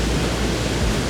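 Niagara Falls' American Falls roars as a loud, steady, close-up wash of broadband rushing water, unbroken for the whole moment with no voices.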